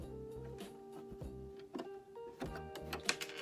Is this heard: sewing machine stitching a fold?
yes